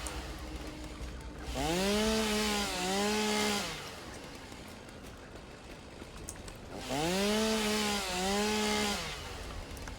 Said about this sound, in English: Do you not use a chainsaw to pick flowers?